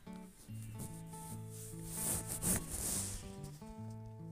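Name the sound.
peanuts being dry-roasted in a pan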